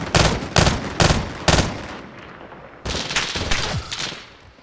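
Gunfire from a burst rifle in Call of Duty Modern Warfare 2, four sharp evenly spaced bursts close by, a short pause, then a longer rattling stretch of shots fading out.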